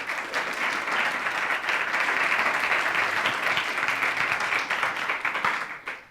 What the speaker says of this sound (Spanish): Vamos a darle un aplauso que nos apoyó.